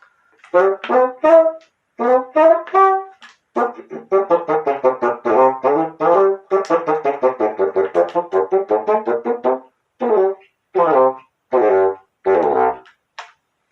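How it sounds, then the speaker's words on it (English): A bassoon plays a bouncy, staccato cartoon-style tune with short repeated phrases and brief pauses, fairly close and alone. "you can actually hear the bassoon playing over there or something"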